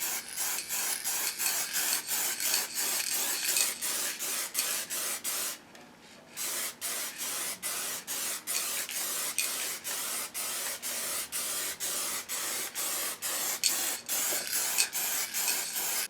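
Rattle-can spray paint coats a motorcycle tank in a long series of close hissing bursts in a regular rhythm, with a short pause partway through, and no talking.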